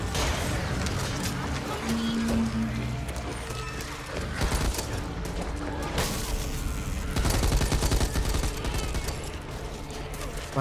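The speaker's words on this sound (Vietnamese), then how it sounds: "Chiếc 500 mạng bằng súng máy." Rapid machine gun bursts in the zombie game Back 4 Blood, a steady loud clatter mixed with mechanical game sounds and impacts, heaviest toward the end, with people talking now and then.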